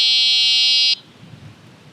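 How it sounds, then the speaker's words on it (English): Electronic horn buzzer built into the front headlight of a G-Force T42 folding fat-wheel eBike, one loud steady high-pitched tone lasting about a second and then cutting off to quiet background. "We do have a horn right there, a little buzzer that's located within the front headlight."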